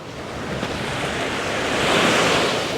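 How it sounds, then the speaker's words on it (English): Sea waves wash onto the beach at Porto Cristo in a continuous, full roar of surf that swells gradually louder toward the end, with wind mixed in and no voices. "I love looking at the sea, love being on the beach"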